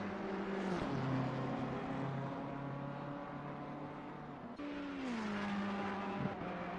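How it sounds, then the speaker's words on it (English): BMW race car sweeping past at the Bathurst circuit: an engine note sliding downward as it passes, then a second tonal engine pass that drops in pitch, moderately distant and with no voices. "Now Palermo is coming through in the BMW."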